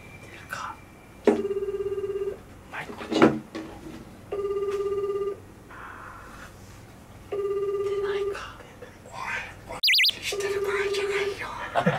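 Outgoing phone call ringback tone on a handset, sounding in four evenly spaced, sustained ring bursts, each about a second long, with short gaps between them, plus brief faint background voices and a click partway through.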